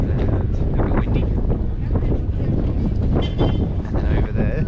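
Strong wind buffets the microphone on Alcatraz Island, a continuous loud roaring rumble with gusty surges throughout, overwhelming everything else in the surroundings.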